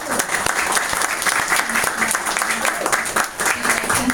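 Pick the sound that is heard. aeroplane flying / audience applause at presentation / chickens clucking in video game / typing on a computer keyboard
audience applause at presentation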